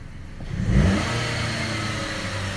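A Chrysler 200 with a P2173 fault in limp mode gets a snap throttle, its engine jumping into one quick, loud rev close by, then holding a raised, steady drone as it settles.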